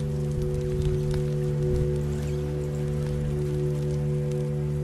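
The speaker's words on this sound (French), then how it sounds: "Il commence à pleuvoir, en plus ça va pas aider." Steady rainfall patters in The Walking Dead video game, a continuous hiss over a low, sustained musical drone.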